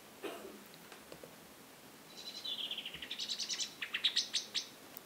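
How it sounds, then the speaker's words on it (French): A blackbird's alarm call rings out alone against a quiet background: a few faint opening notes, then a rapid, accelerating series of sharp, high chattering chinks that grow louder and more insistent toward the end. "Un extrait de merle illustre justement cette alarme"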